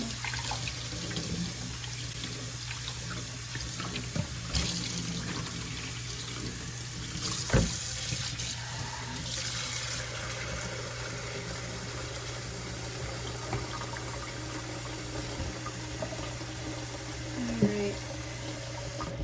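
Cold tap water runs steadily into a sink while making homemade butter, a continuous broad wash with a low hum beneath and a few clinks and splashes.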